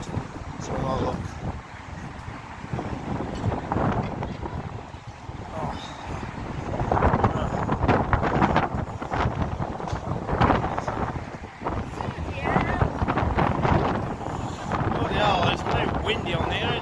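Strong afternoon wind gusts buffet the microphone on a Blackpool street, swelling and dropping in loud rumbling waves, with people talking intermittently underneath.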